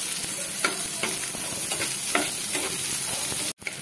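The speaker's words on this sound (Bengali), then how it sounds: "পেঁয়াজটা দিয়ে রসুনের সঙ্গে আমি একটু পেঁয়াজটাকেও ভেজে নিচ্ছি।" Onion and garlic fry in a pan with a steady, close sizzle, broken by soft scraping stirs about every half second, until a brief dropout near the end.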